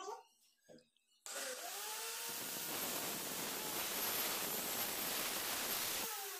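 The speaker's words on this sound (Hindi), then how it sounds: "कटर मशीन की मदद से इसमें एक खांचा निकाल लेंगे ऐसे खड़े में" A cutter machine slices a groove into a hammer handle, a loud sustained grinding whir running steadily for about five seconds after a brief quiet start, then cutting off.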